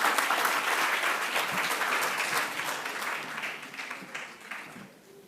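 Enthusiastic audience applause at a social development partnership summit, a dense crowd of clapping hands that holds steady and then gradually tapers off.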